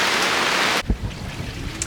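Rain falls on an anchored sailboat, a dense hiss that suddenly cuts off and leaves scattered drips and soft patters close by.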